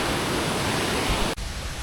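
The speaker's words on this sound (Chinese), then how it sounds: "好凶猛的水呀！" Loud, steady rush of water close by on a forest trail below a powerful waterfall, a dense roar that briefly dips near the end, then carries on without speech.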